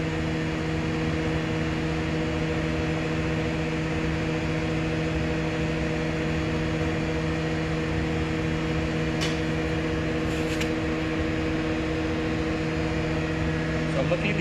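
A glassblowing furnace hums steadily at close range while a light blue wavy blown glass bowl is reheated, a constant roar with stable tonal drone and a couple of faint clinks near the end.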